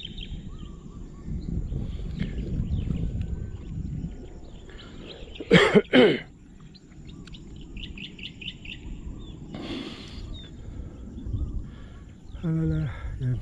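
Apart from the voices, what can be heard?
bird song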